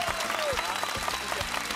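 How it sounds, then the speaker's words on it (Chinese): A studio audience on a Taiwanese variety show filmed in Taichung breaks into brisk, dense applause for a senior. The clapping is steady, full and close throughout the short moment. "来给我们学长掌声鼓励一下。"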